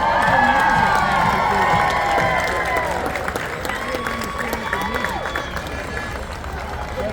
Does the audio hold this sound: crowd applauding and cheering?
yes